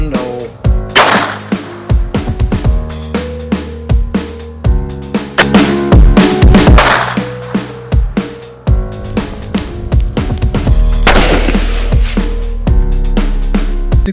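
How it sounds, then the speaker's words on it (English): A Palmetto State Armory AR-10 rifle chambered in .308 Winchester fires repeatedly at an outdoor range, loud booming shots with ringing decay, some in quick succession and others spaced a second or two apart, no talk. "Basically what we shot was a Palmetto State Armory AR-10 chambered in 308 Winchester"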